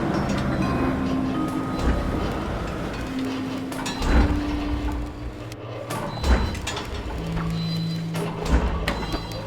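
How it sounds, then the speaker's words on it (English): In a video game, a train pulls into a station with a low steady rumble, sustained tonal hums, and several soft clanks and thuds spaced throughout, heard at moderate distance. "A train arriving at the station."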